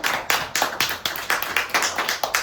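A group claps together at a summer camp showcase, a steady run of about eight or nine sharp claps at a quick, regular pace, loud and close with no talking over them.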